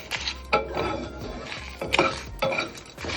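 Ingredients for a raw banana (vazhakkai) podi curry are dry-roasted and stirred in a pan, giving repeated metallic clinks and scrapes at a steady, close rhythm.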